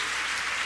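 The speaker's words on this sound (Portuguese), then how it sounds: "dá uma salva de palmas ao Senhor" Audience applause at a church service, a brief, dense wash of clapping that holds steady throughout.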